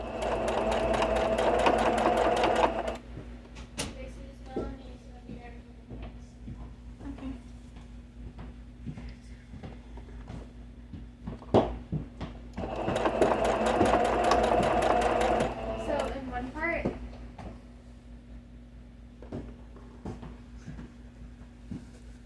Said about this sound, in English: Going to start sewing and backstitch as well.